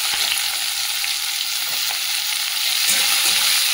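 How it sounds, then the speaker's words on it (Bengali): Chopped onions frying in hot oil in a pan, a loud, continuous close-up sizzle with a few faint stirring taps and no talking. "পেঁয়াজটা লাল করে ভেজে নেবো"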